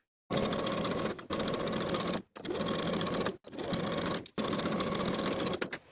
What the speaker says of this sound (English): Sew the main and lining together along the neckline from center back to center back with a 1/2 inch seam